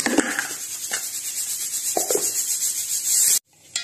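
A kitchen mixer grinder whirs steadily as it grinds cooled masala into a fine paste, a loud continuous rough drone with a few scraping pulses, cutting off abruptly near the end and restarting briefly.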